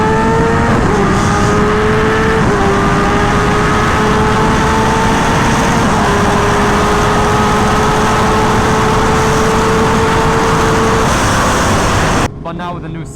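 Kawasaki H2R motorcycle at full throttle on a top speed run near 218, a loud steady engine drone with rising pitch through each gear and brief shifts, ending in a sudden burst of wind noise.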